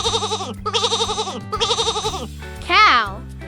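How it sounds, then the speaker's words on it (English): A sheep bleats in three quick wavering bursts, close and loud, followed by a higher sliding bleat near the end, with no talking. "Sheep"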